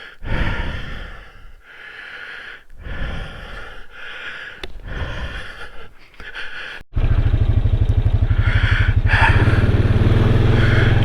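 A motorcycle rides slowly into the sun on a trail, first with muffled breathing-like whooshes under a helmet, then a steady close engine drone with a rapid low putter that holds to the end.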